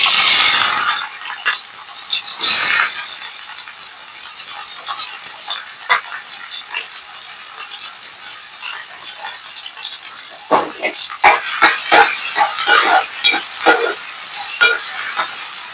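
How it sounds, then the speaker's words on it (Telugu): Sliced onions dropped into hot oil for egg puri, with a steady hiss and sizzle and a burst of clattering, stirring scrapes toward the end, close and fairly loud. "ఆయిల్ వేడెక్కింది ఇప్పుడు మనం ఉల్లిపాయలు వేసుకుందాం"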